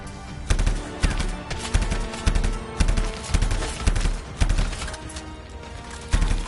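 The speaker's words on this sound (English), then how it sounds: "I'm shooting my gun." Video game gunfire, rapid loud bursts of shots in repeated volleys with heavy low thumps, dense and close throughout.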